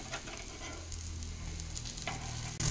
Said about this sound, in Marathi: दुसऱ्या साईडनी पण छान असे आपल्याला भाजून घ्यायचे